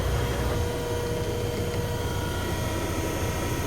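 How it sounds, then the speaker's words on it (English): A 12V motor running on 18 volts for a 12V diesel-powered clothes dryer gives off a steady, close, whirring drone with broad hiss. It holds constant throughout with no talk. "just testing the motor now"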